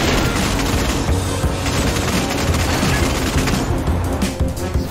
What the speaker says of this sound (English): Deploy Gemini cannons.